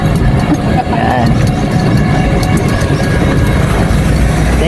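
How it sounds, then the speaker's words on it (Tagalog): A loud, steady rumble of an LRT train rolling past close by in the Philippines, continuous engine and wheel noise with faint clicks on top. "Ito lang yung train na dumadaan."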